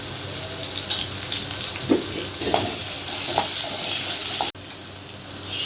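Onion goes into hot oil with popped mustard seeds, cumin and curry leaves for a kulambu, giving a steady close sizzle with a few soft stirring scrapes, then a sudden cut to a quieter, calmer fry near the end.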